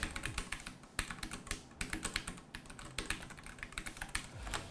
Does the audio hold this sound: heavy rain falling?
no